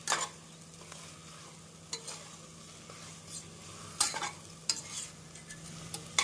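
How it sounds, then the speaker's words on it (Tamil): Chicken stir-fried with masala in a pan gives a faint, steady sizzle, broken by a few sharper scraping stirs against the pan. "நாம் சிக்கனை சேர்த்து மசாலாவுடன் 1 நிமிடம் நன்றாக வதக்க வேண்டும்."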